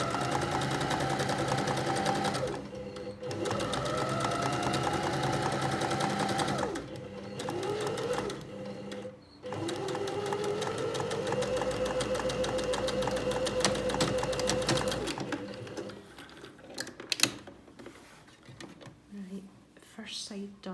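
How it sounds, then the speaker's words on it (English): A sewing machine stitches across the bottom of a tote bag with a 1 cm seam allowance, running in steady close bursts with short pauses for back stitching, then stopping. A soft voice talks over parts of it. "I'm now going to sew across the small section at the bottom"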